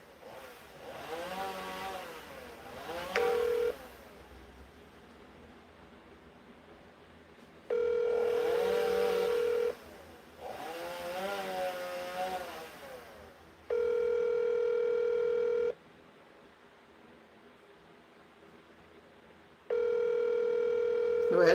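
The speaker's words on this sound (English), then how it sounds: "Well, it's ringing, but she not answer" Ringback tone on an outgoing phone call, steady buzzing tones about two seconds long repeating at regular intervals, with a person talking over the pauses between rings.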